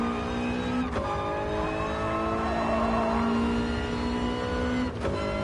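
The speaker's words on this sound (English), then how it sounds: "See, I hit the rev limiter there." A Toyota race car engine in GT Sport screams at high revs, holding a steady tone against the rev limiter before cutting sharply near the start and again near the end, loud and close with no talking.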